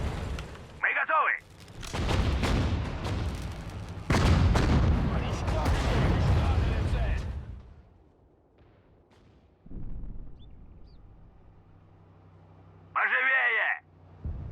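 Artillery guns fire in a Sudden Strike 4 Battle of Kursk battle, booming blasts and rumbling impacts filling the middle stretch loudly, with brief Russian radio voice lines before and after.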